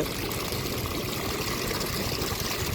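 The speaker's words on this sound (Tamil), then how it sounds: "நல்லாவே தண்ணி பம்ப் பண்ணிக்கிட்டுருக்கு" Water gushes steadily from a serviced 1100W BLDC motor pump, a loud, continuous rushing flow without pauses or voices.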